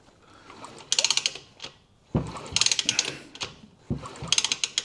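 On a Suzuki RB50 moped engine, a plug sparks as the engine is turned over, giving bursts of rapid clicking and ratcheting mechanical ticks in three short, close runs separated by brief pauses.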